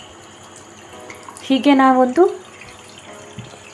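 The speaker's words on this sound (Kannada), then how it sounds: "ಇದೇ ರೀತಿ ಪುನೊಮ್ಮೆ ನೀರು ಹಾಕ್ತಾ ಇದ್ದೇನೆ." Water poured again over freshly made homemade paneer from milk powder to rinse it, a soft running trickle in the background while a person briefly speaks over it.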